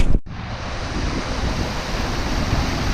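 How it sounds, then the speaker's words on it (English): A waterfall at Arbuckle Cascades in Oklahoma rushes with a steady, broad roar up close after a brief dropout, with no talking. "found an area down this way that looked like a pretty decent waterfall, so there's some good flow here"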